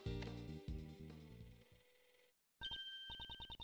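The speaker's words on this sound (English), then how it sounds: "Judge Courtney's cell phone is ringing." A game cell phone rings in Ace Attorney Investigations 2, a bright electronic ringtone of rapid repeated beeps after a short musical passage and a brief silence, loud and close with no talking.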